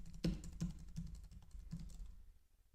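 Keystrokes on a computer keyboard as a credit card number is entered, a quick run of close, crisp clicks fading into quiet, no talking.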